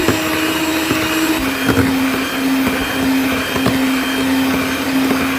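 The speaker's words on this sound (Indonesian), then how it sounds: "Lalu masukkan kuning telurnya, terus di mixer ya." An electric hand mixer beats egg yolks into marbled sponge cake batter, giving a loud, continuous motor whir with a steady pitch that shifts slightly partway through, with no voices.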